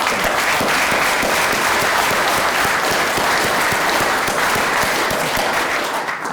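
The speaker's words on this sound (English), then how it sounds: "I would like just for a round of applause to thank them" Audience at a building information modeling event bursts into applause after the presentations, dense steady clapping close and loud for the whole stretch, fading only slightly at the end.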